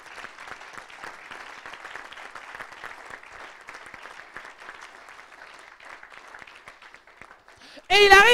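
A church congregation at a French-language sermon claps in a soft, sustained patter that continues steadily in the background, ending with a sharp louder burst of sound.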